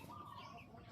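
Soft clucking from a giant Brazilian-breed chicken on a farm, close by and fairly quiet, a brief run of low calls.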